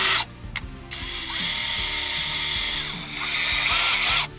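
A power drill boring dowel holes into wood, whirring loudly in bursts with short pauses and ratcheting clicks between them, close up.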